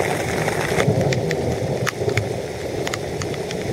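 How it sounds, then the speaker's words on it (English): Steady rain drums on a tarp at a lakeside camp during a thunderstorm, with sharp crackles and a thunder rumble cutting through the downpour. "thunder, lightning's still going, but it's kind of off in the distance a little bit"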